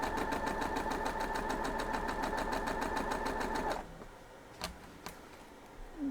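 Sewing machine stitching together a column of quilt block pieces for a broken courthouse steps block, a close, even, rapid motor chatter that stops abruptly, followed by a few faint clicks and fabric handling.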